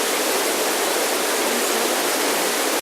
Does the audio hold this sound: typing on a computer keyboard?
no